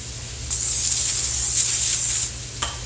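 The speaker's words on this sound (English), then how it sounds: "I'm still going to spray it with a little Pam, just so the potatoes will not stick." Pam cooking spray hisses onto a parchment-lined cookie sheet in one loud, steady burst of about two seconds, close up, followed by a short second puff.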